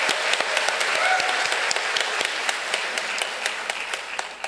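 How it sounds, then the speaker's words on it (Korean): A church audience at a retreat applauds a pastor's special lecture, a dense, steady burst of many hands clapping in a hall that carries on evenly for several seconds with no talk over it. "조주인 목사님께 감사와 이 큰 박수를 드리겠습니다"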